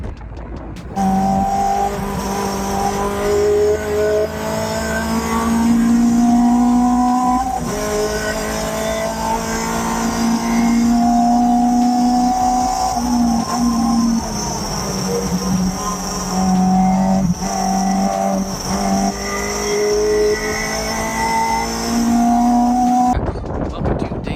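Race cars lapping a rented track during pre-season test week, engines droning loudly and continuously with rising and falling pitch as they accelerate and shift, tire noise underneath.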